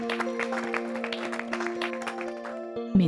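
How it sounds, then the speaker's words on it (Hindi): Scattered clapping from a small crowd welcoming a guest to a stage, uneven and light, over a sustained musical drone, ending with a sudden thump. "आप लोग तालियों से स्वागत करिए।"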